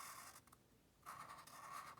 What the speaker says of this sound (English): I'm going to write Happy New Year.